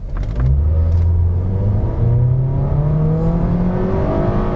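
A Mazda 6 accelerating hard at full throttle, its engine note climbing steadily in pitch as revs rise toward the limiter, loud and close from inside the car with no talking.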